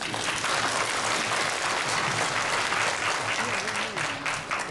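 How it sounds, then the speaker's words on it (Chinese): Warm audience applause at an award ceremony, a dense continuous wash of many hands clapping close and loud for the whole stretch, with faint voices underneath near the end. "给予他们一个热烈的掌声。"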